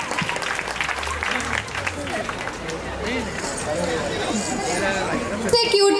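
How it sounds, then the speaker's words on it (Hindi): An audience at a school annual function applauds, a sustained wash of clapping mixed with crowd chatter and hubbub, fairly loud and swelling slightly near the end. "जोरदार तालियां हो जाए इन बच्चों के लिए।"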